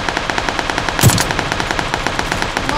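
Rapid bursts of video game gunfire, sharp repeated shots in a fast, steady rhythm with one louder blast partway through.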